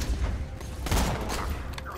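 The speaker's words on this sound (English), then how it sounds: "I'm getting shot at." Gunfire in the video game Borderlands 2: rapid bursts and thumping impacts blend into a dense, loud barrage lasting throughout, with no talk over it.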